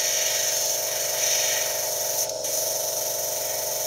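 Steady airbrush hiss and whir runs continuously, with a brief dip near the middle, while paint is sprayed onto a Warhammer 40,000 Ork Bommer model kit to darken its metal finish; no talking.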